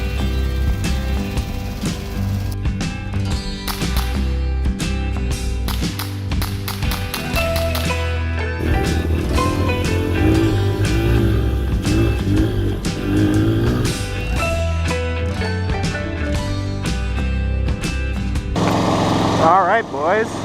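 A Ski-Doo Formula Z 583 snowmobile engine runs steadily while being ridden, a continuous loud drone with shifting pitch and scattered clicks and taps throughout.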